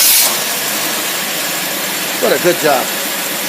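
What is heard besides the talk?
engine with Rochester single-barrel carburetor starting and idling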